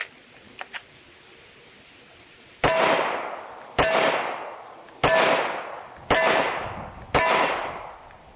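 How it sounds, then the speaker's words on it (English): Five loud metallic clangs ring out as 9mm full metal jacket rounds strike steel targets, spaced about a second apart with ringing decay, preceded by a couple of faint sharp pops. "These are definitely a lot louder when they hit the steel."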